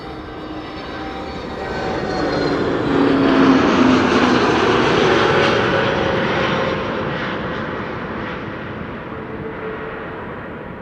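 A jet airliner arriving at Amsterdam Schiphol Airport roars loudly as it passes close overhead, the broad engine rumble swelling to a peak midway and then slowly fading as it moves on.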